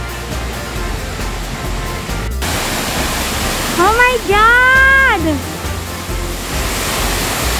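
Water rushes steadily at Tai Tam Tuk Reservoir Dam, a constant broad roar filling the whole stretch, while a person's excited exclamation rises briefly over it midway.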